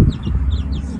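Chickens on a farm clucking and calling in short, overlapping bursts over a low outdoor rumble, close by and fairly steady throughout.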